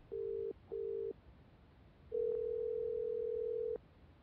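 In the horror game Fear Assessment Plus, a telephone line gives two short tones followed by one long steady tone, clean and moderately quiet with nothing else over it.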